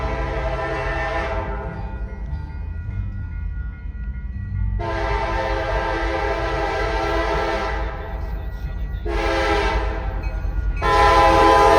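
Freight trains of the WSSB and HT&D railroads roll past a grade crossing in central North Carolina, a steady low rumble of cars with a loud horn sounding in several long blasts, stopping and restarting throughout.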